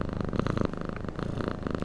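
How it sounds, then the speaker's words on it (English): Close, rhythmic purring of a cat in a video game, steady rumbling pulses rising and falling with each breath, alone without speech. "There's a cat up there by an open window, enjoying the evening air."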